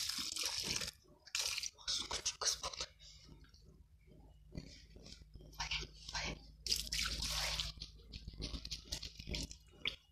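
Water is splashed and poured onto a newly planted sapling in a garden, coming in uneven bursts and trickles with pauses between, while a steady low hum runs underneath.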